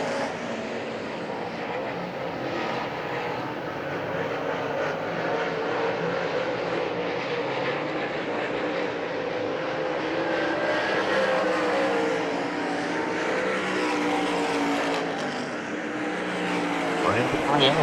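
Dirt track race cars battling side by side at Hagerstown Speedway, a continuous loud drone of engines roaring around the oval, with a commentator talking over it throughout.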